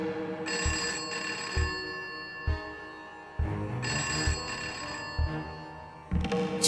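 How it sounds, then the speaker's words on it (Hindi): A telephone rings indoors in a household, its bell sounding in several repeated bursts separated by short pauses, loud and close with no talking. "मैं देखती हूँ किसका फोन है।"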